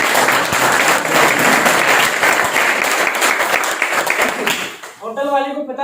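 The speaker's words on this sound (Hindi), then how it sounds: "एक बार अपने लिए जबरदस्त ताली हो जानी चाहिए।" A meeting audience in a hotel hall in Bareilly gives loud, sustained applause for about five seconds. The clapping then fades as a voice begins speaking.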